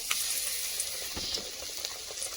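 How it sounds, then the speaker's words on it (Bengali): Battered eggplant fritters (beguni) fry in hot oil, a soft continuous sizzle and bubbling heard close by with no voices, brief and fairly quiet. "এবার কিন্তু ওই গরম তেলে বেগুনি ভেজে নেব"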